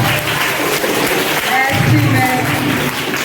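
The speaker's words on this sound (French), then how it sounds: "On acclame très fort la maîtresse." An audience at a school event in Ndaa cheers and applauds the schoolteacher, a dense, continuous wash of clapping with crowd voices and talk mixed in throughout.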